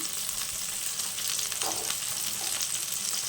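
Ginger and garlic fry in hot oil in a pan with a constant bright sizzle and a faint stir partway through. The sound is close and steady, with no voices.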